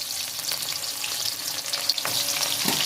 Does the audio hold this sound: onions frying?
yes